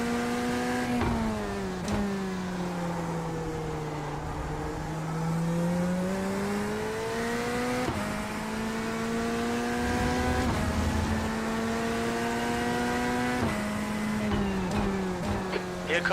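LMP1 race cars in a sim racing game roar with a continuous engine drone whose pitch climbs and falls through gear changes and corners, steady and close throughout.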